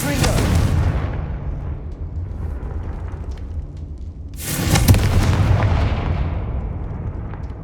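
Two heavy Confringo spell explosions in Hogwarts Legacy boom out one after another, each a loud burst with a rumbling tail, and the second blast comes a few seconds after the first one fades.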